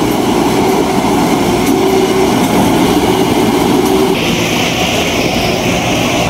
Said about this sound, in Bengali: ধান কাটার মেশিন আর কি।